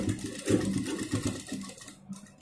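A sewing machine stitches fabric pleats for a kurti, laid one by one as it runs slowly, giving a soft, close, rhythmic mechanical chatter that eases off toward the end.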